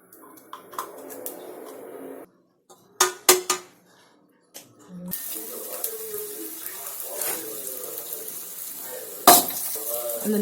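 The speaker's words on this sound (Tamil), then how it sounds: "அந்த நெய் விட்டு அதில் முந்திரி திராட்சை போட்டு கொஞ்சம் ஃப்ரை பண்ணி எடுத்துக்கலாம்." Cashews and raisins fry in ghee in a kadai on a gas stove, giving a hissing sizzle with scraping and clinks in short bursts, then a steadier crackle running to the end.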